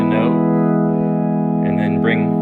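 A sustained Nord Stage 3 keyboard tone with bright organ-like overtones, added with the wheel, that swell in and out, held steady throughout.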